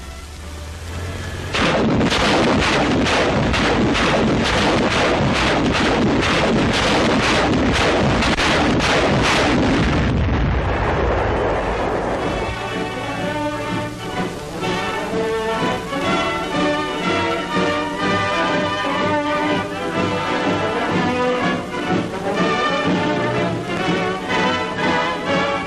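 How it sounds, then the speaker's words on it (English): A T-40 demolition rocket launcher mounted on a Sherman tank fires a long rapid salvo of loud booming blasts in quick succession. The volley fades into rumbling echoes with music, and no voices are heard. "You have seen the performance and assembly of the demolition rocket launcher T-40"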